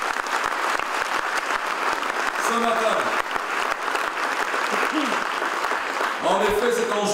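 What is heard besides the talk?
audience applause for Claude Rollin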